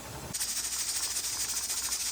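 A pressure canner on a stovetop, processing dried peas, starts a sudden steady hiss of venting steam that continues loud and close, with a faint pulsing flutter in it.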